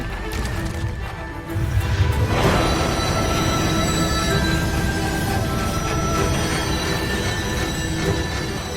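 A steampunk war train rolls along in the video game Bayonetta 3, a loud continuous rumble of wheels with sustained high metallic squeals and clattering, steady throughout after a swell at the start.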